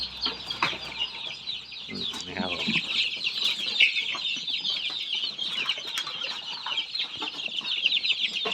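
Newly hatched incubator chicks in a warm brooder keep up a dense, continuous high cheeping chorus close by, with someone speaking briefly over them near the start.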